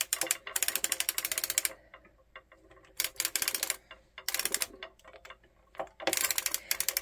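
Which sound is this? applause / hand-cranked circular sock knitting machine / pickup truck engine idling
hand-cranked circular sock knitting machine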